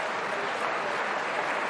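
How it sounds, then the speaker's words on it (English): Steady applause from home supporters and visiting Leeds United fans in a stadium at half-time of a pre-season friendly against Cagliari, a continuous crowd wash of clapping heard at a distance. "Good applause from the home supporters and from the Leeds fans in that top corner as well"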